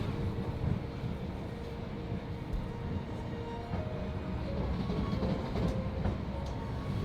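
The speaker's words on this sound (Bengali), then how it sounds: "ট্রেন চলতেছে" A double-decker train runs on rails in Azerbaijan, heard from inside as a continuous loud low rumble with faint rhythmic clatter and no talking.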